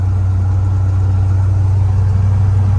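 A 1977 Chevy C10 pickup engine drones steadily at cruising speed on cruise control, a strong continuous low hum with road noise that stays even throughout, with no voices.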